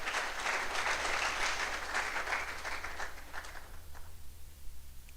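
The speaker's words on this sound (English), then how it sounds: "Please clap for them for me." An audience at an inaugural lecture breaks into sustained applause, a dense wash of clapping that gradually thins and fades toward the end.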